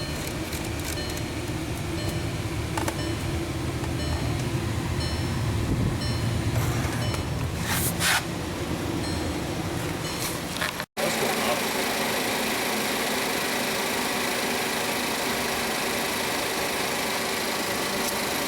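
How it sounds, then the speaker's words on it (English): A car's air conditioning blower runs steadily, a constant broadband whoosh with an engine hum beneath it. The sound is loud and close, and it briefly cuts out near the middle before resuming. "AC blower on"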